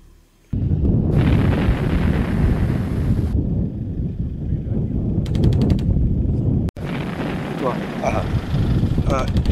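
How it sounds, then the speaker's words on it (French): Artillery fire during fighting in the Ukraine war, heavy rumbling booms and blasts rolling continuously with a brief gap, loud and wind-buffeted. "Les bruits d'artillerie qu'on entend là en ce moment, ça veut dire qu'il y a des combats?"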